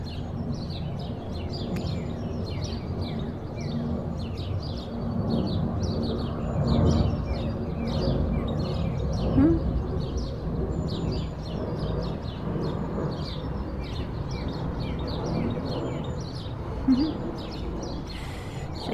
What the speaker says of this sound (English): we get quite a lot of birds in here